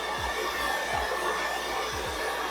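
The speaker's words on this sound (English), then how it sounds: "You don't want to blow dry the heck out of it" A hair dryer blowing hair during a volumizing blow-dry, a continuous close airy whoosh with a faint steady whine, punctuated by soft low thumps as it moves, with no speech.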